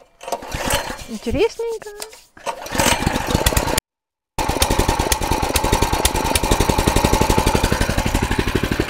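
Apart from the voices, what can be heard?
small engine started and running in first gear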